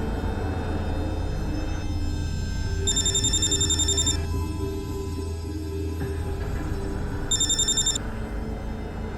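Two short bursts of telephone ringing on an outgoing call, each about a second long and several seconds apart, rise faintly over a constant low background rumble.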